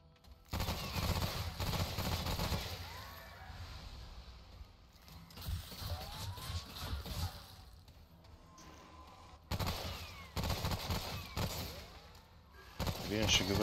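Enemy gunfire in the video game Remnant: From the Ashes: bursts of rapid shots in several loud clusters separated by quieter gaps, with a voice talking in between.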